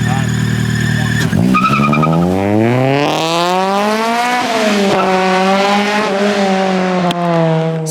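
A Honda CRX driven hard on a race track, its engine revving and climbing through the gears, loud and close with tires squealing as pitch rises and falls; a person speaks briefly under the engine noise.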